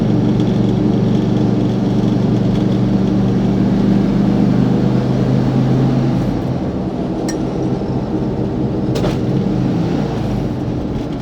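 Air-cooled engine of a 1968 VW Bus running loud inside the cabin with no sound dampening, a steady low rumble that drops and thins after about six seconds, with a few faint clinks near the end.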